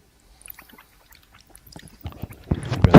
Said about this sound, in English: You can dial in all kinds of weird, like liquidy, drippy, squishy noises and stuff.